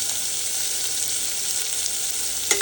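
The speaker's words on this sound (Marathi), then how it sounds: "कांदाही व्यवस्थित गोल्डन ब्राऊन होईपर्यंत आपल्याला छान परतून घ्यायचा आहे" Chopped onion with curry leaves sautés in oil for upma, giving a constant, close frying sizzle with no voices and one brief clink of a utensil near the end.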